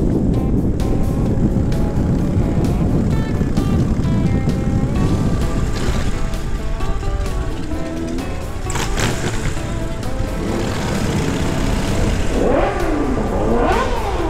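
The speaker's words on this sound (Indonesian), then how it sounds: "Enak banget suara motor Daniel." A Harley-Davidson motorcycle engine rumbles loudly and continuously while riding, a deep steady drone with wind roar and slight shifts in pitch and load.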